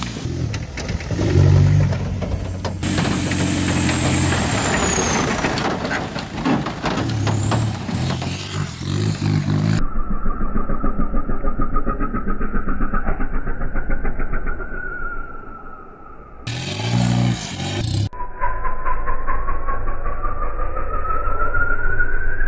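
BMW car engine revving while climbing a hill, a loud sustained drone with rising and falling pitch across long stretches, joined midway by a sharp high whine.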